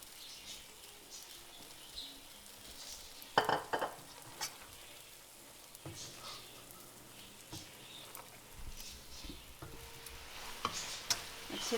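Boiled pasta mixed with chicken in a pan for chicken pasta, with soft intermittent stirring scrapes and light sizzle, a few sharper clacks of the spoon against the pan, fairly quiet with no talking.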